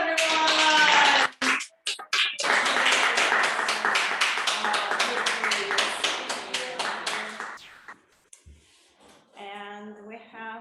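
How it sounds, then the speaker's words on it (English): Audience applause at a Toastmasters club meeting, dense and sustained clapping from a room of people for several seconds before it thins out, followed by a brief pause and then a person speaking. "Applause, everyone!"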